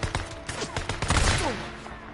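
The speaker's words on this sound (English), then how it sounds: "Forgot I had my sniper." Sniper rifle fire in the video game Days Gone: a dense run of loud cracking shots and bursts mixed with other game effects, with no talk over it.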